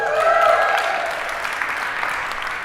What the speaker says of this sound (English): Round of applause for Denver.